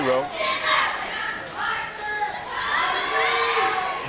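A packed crowd at a high school wrestling match between Saegertown and Fort LeBoeuf cheers and shouts, with excited yells and children's voices rising and falling over a constant noisy din, and commentary speech mixed in.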